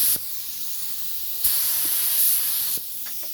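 Airbrush spraying 2K primer at low pressure, a steady close hiss of air and paint with brief louder bursts as the trigger is pressed, heard alone without talk.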